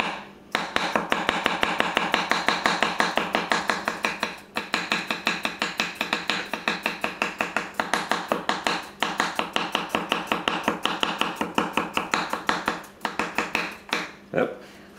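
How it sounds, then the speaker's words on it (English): Kikuichi Swedish Warikomi Damascus gyuto knife cutting carrot into a fine brunoise on a board, a fast steady run of crisp knife taps, close and loud, with a couple of brief pauses. "we'll try a little mini brunoise"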